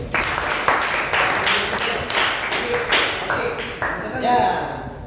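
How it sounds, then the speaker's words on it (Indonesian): Applause for the first group in a classroom study session on Islamic jurisprudence, a steady patter of clapping from a small group that holds for about five seconds. "Kita beri aplaus dulu untuk kelompok 1 aja"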